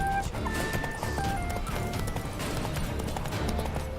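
Geralt's horse gallops through town in The Witcher 3, a steady clip-clop of hooves running close under game music and ambient noise, with a faint whinny.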